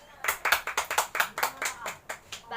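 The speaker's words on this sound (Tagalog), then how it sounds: "Bigyan naman natin ng palakpak ang bawat isa" A classroom of primary-school students claps for one another, a burst of quick, uneven hand claps up close that thins out toward the end, with no voices over it.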